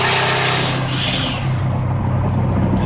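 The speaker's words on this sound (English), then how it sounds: "Just cruising on down the highway. Cars run actually very well." A car cruising down the highway with a phantom misfire fault: steady road and engine noise, close and loud, with a broad wind and tire hiss that holds constant, no talking.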